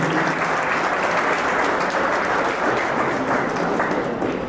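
Dense, continuous applause from an audience at an award and honouring ceremony, loud and even throughout with no voices breaking through.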